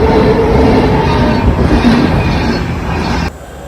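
A train passes a closed railway crossing with a loud, close, continuous rumble and rattle of wagons. The noise drops off abruptly near the end as the last cars go by.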